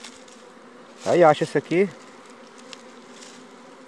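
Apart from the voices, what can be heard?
bees buzzing around an opened honey nest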